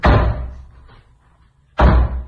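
Heavy, booming blows from police striking a blocked, damaged door during a search, two loud impacts spaced well apart with a long resonant decay after the first, close and forceful.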